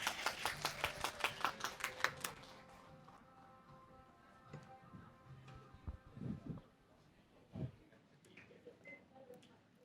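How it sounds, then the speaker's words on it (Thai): Brief applause from a seminar audience at a hospital talk greets a presenter, a short burst of clapping at the start that quickly fades into quiet room noise with scattered shuffles and bumps. "ขอเสียงปรบมือต้อนรับผู้นำเสนอจากโรงพยาบาลศรีธัญญา"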